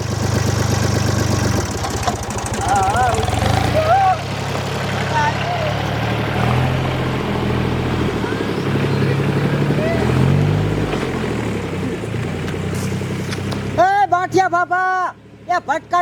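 A tractor engine runs nearby in a village, a loud, steady low rumble that continues with little change. People shout over it, and near the end the engine drops away, leaving voices alone.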